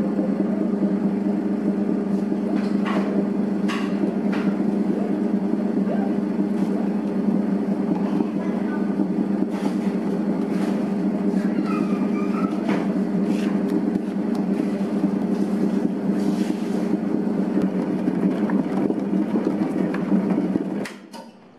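A dough mixer kneads steamed bread dough made with flour and other ingredients, giving a steady, loud motor hum that runs throughout before cutting off at the end, with faint voice and clatter under it.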